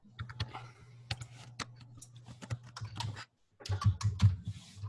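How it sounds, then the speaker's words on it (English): Several people type on computer keyboards during an online meeting, producing dense, uneven runs of close clicking keystrokes over a low steady hum, with a brief pause before the typing resumes. "Everybody's typing."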